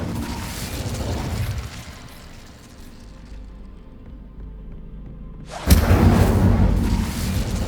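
A fire spell, Incendio, is cast in Hogwarts Legacy: a crackling roar fades to a quiet lull, then a sudden loud whooshing burst erupts and keeps roaring to the end.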